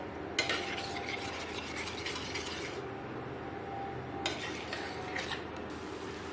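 A spoon stirred hard through potatoes and eggs in a pan for an aloo anday curry, giving a steady scraping, clinking churn with brighter metallic scrapes at intervals, close and continuous with no talk.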